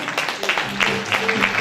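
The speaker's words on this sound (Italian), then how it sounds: "Grande applauso" A crowd at the Canta Italia 2016 music event in Stuttgart claps briefly beneath a voice talking over it.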